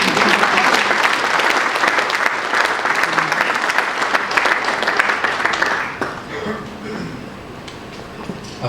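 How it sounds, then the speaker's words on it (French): An audience at a staged trial of Mobutu claps for itself in a dense, loud wash of applause that holds steady for about six seconds before thinning into scattered claps and a murmuring crowd. "Je vous demande de vous applaudir vous-même."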